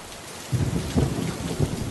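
Heavy cartoon rain pours down in a dense, continuous hiss, with low rumbling swells of thunder rolling underneath, fairly subdued in level.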